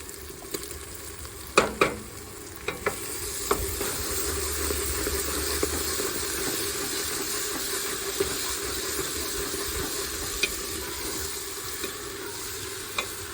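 Tomatoes fry in a pan with a steady soft sizzle, while a spoon scrapes and clinks against the pan in a few sharp stirring knocks.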